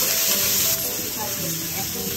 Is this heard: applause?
no